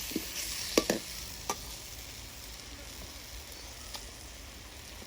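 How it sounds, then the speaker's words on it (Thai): Beef stir-fried quickly in a pan for a holy basil dish: a faint, steady sizzle close by, with a few sharp clinks and scrapes of stirring near the start. "อย่าผัดนานเดี๋ยวเนื้อเหนียว ต้องรีบผัด"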